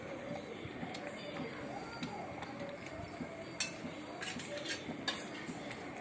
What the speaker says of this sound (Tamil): இதையும் நல்லா கைவிடாமல் ரவையோடு சேர்ந்து வர்ற மாதிரி நல்லா கிளறி கொடுத்துக்கிட்டே இருக்கணும்